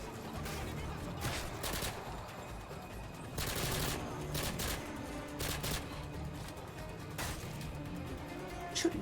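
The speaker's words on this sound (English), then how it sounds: "Shooting at me now." Dense gunfire from a Modern Warfare 2 veteran campaign mission, a continuous fusillade of rapid shots and bursts with repeated loud peaks, with some faint talk underneath.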